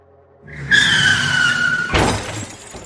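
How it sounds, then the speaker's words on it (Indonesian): A car hits an electricity pole: an engine rises with a screeching skid, then a sharp, loud crash and shatter of breaking metal and glass near the end, with debris settling after. "Menghajarlah mobil Reno tadi ke tiang listrik, sampai mobil tersebut hancur."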